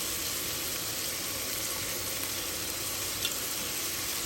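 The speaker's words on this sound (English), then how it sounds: "So here we go with the tomatoes. Adding 2 tablespoons of ginger garlic paste." Tomatoes and ginger garlic paste fry in a pan for a spicy chicken dish, giving a steady, close sizzle that holds evenly throughout with no talking over it.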